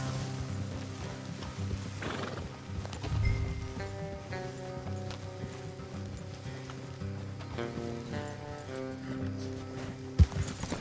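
A horse whinnies loudly over a soft musical backdrop in the video game Red Dead Redemption 2, followed by scattered hoof clops and a sharp knock near the end.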